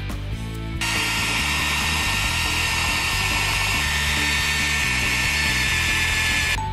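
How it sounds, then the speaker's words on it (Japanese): A high-pitched rotary tool whirs continuously after a brief start, its steady whine grinding through a plastic Mini 4WD frame, with low rattling underneath. "ではここでリューターを使っていきます。"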